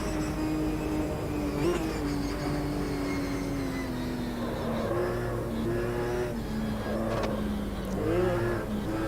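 A Ginetta race car in Automobilista 2 on the Bathurst circuit, its engine droning and revving steadily through gear changes for nine seconds, with no voices.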